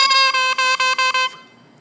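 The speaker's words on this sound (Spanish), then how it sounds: "Solo boquilla suena así." Bare oboe double reed blown on its own without the instrument, giving a bright, buzzy, nasal squawk sounded as a quick series of five or six short pulses before fading out.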